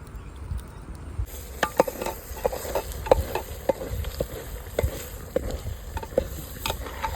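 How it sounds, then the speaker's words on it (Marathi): Steady sizzle of chicken curry frying in a pot on a wood-fired stove, punctuated by irregular clinks and scrapes of stirring, close by, with no voices. "आता लय जाळ घाल बघ त्याला तळायला पाहिजे"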